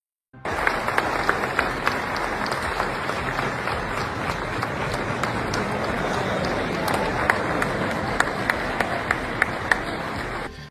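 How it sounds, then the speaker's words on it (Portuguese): An audience at the World Economic Forum gives Trump a standing ovation, with dense, sustained applause from a large crowd holding steady throughout with sharp individual claps standing out. "os convidados ainda aplaudiram Trump de pé"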